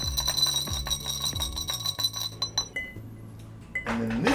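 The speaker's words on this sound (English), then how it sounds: "And then once again, we're going to give that a nice stir." A Negroni stirred with ice in a mixing glass, the ice clinking and rattling against the glass in a quick, steady rhythm. The stirring is close and fairly quiet, with no talking.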